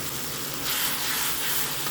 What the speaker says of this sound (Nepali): टमाटर हालिसकेपछि अब हामीले यसलाई 2-3 मिनेटसम्म पकाउने र बिचमा चलाउँदै गर्ने